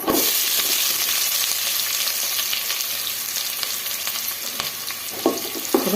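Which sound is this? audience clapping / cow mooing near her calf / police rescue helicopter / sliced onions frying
sliced onions frying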